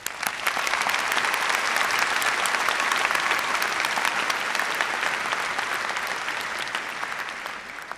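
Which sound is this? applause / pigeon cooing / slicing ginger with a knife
applause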